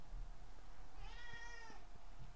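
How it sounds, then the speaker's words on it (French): A cat meows once, drawn out and fairly faint, in a room while trying to get out, against a steady low background hum. "Vous savez donc qu'il y a un chat dans la pièce"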